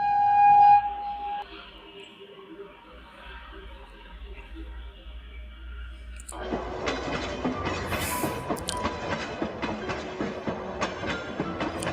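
A train runs in heavy rain; after a quiet, hushed opening, a steady rolling rumble with faint rhythmic rattling rises about halfway through and continues to the end.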